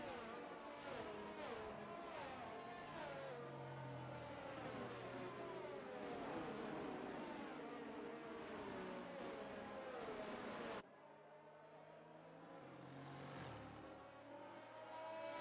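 F1 22 race cars roar around the Italian Grand Prix circuit in the video game, a dense, continuous layer of engine whine and revving from several cars, fairly faint and steady throughout.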